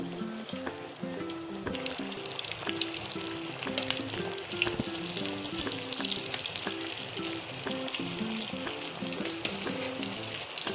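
Egg masala bread sizzles and crackles steadily in hot oil, a close, moderately quiet frying hiss with occasional stirring sounds and no talking.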